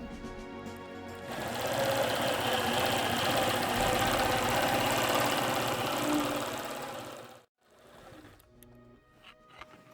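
A sewing machine stitches through a barn-dance quilt in a steady mechanical whir for several seconds, then stops abruptly, leaving brief faint handling clicks afterward.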